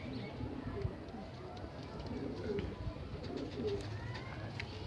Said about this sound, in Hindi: मलवई कबूतर हैं